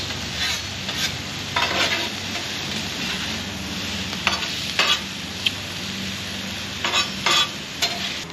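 Seasoned onions with garlic and spices sizzle loudly on a Blackstone griddle as two metal spatulas scrape and clack against the flat top in scattered strikes over a dense, continuous frying hiss.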